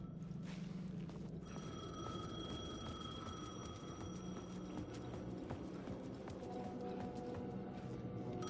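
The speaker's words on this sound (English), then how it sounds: "The payphone was ringing." A payphone rings in the video game Alan Wake II, a faint repeating bell tone sustained over a low ambient game soundscape with no talk.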